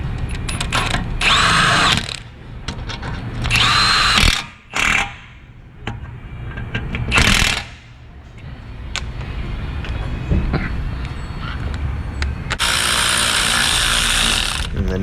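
Power tool, likely an impact driver or drill, tightening front motor mount bolts on a 2004 Dodge Stratus, running in several loud bursts of a few seconds each with pauses between, no talking.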